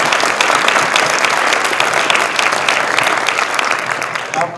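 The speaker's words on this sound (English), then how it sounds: "Can we give her a round of applause?" Audience at a military retirement ceremony applauding, a dense steady clapping that fills the space loudly from start to finish.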